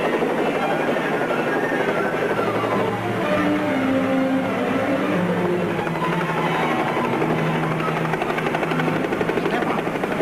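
A helicopter flies nearby, its steady rotor chop and engine drone continuous and fairly loud throughout, with faint voices underneath.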